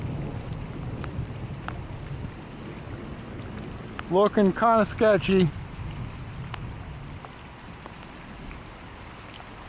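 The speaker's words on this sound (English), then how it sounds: "Did not expect any rain today, and this is what we got." Heavy rain pours down during a thunderstorm over a farm, a dense steady hiss throughout, with a voice speaking briefly over it midway.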